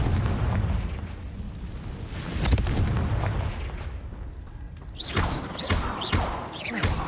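Repeated Confringo spell blasts in Hogwarts Legacy, several sharp booming explosions with rumbling tails spaced a second or two apart, loud and close, with crackling bursts layered over a steady low roar.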